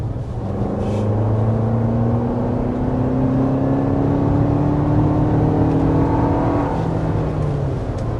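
A 2024 Lexus TX 350 accelerates while merging onto a freeway, its engine note rising steadily over a constant wash of road and wind noise, heard from inside the cabin with no talking.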